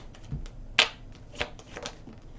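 Tarot cards being shuffled by hand: a few short, crisp riffling snaps spaced through a quiet room, close and fairly soft with no talking.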